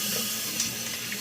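Cold tap water runs steadily from a faucet onto cooked mac noodles for seafood mac and cheese, a soft continuous rush close by with no voices.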